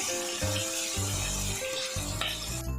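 Ground turmeric, cumin and coriander powders sizzle and fry in a hot pan, a steady close crackle with a few stirring pulses, heard alone with no talk.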